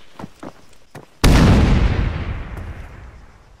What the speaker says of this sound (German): hier ist gerade eine Granate explodiert, noch eine